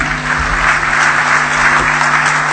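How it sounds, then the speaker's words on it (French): Dense, sustained applause from a large audience, loud and even throughout, with no pauses or voices standing out. "je m'apprête à inviter sous vos applaudissements la fondatrice du réseau Sultani Makutano, Madame Nicole Soulou."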